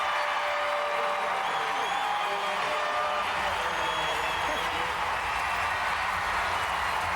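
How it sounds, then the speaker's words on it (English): A large arena crowd at the 2003 World Gymnastics Championships in Anaheim roars and cheers after a tie for first place, a dense sustained wall of voices and scattered clapping that stays loud throughout. "the crowd is going absolutely nuts"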